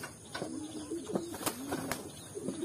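Racing pigeons kept in a loft coo softly and repeatedly, with a few wing flaps and faint chirps mixed in, all fairly quiet and close.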